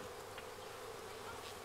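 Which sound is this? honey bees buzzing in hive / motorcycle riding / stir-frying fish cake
honey bees buzzing in hive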